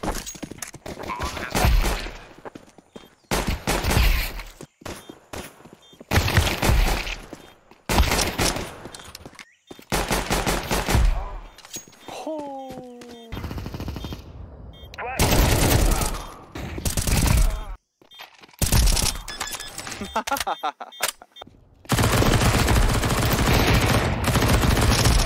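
Rapid bursts of automatic gunfire in a shooter video game, loud and close, with repeated volleys separated by short pauses and a sustained barrage near the end.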